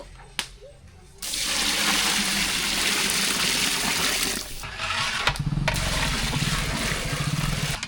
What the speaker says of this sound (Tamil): அரிசி பருப்பு சாப்பாடு தண்ணி ஊற்றிக்கலாம்